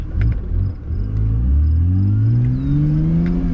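A BMW E90 328i engine under way on back roads, a loud close rumble that climbs steadily in pitch as it revs through acceleration, no talking.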